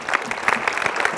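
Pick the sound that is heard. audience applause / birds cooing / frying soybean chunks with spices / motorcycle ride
audience applause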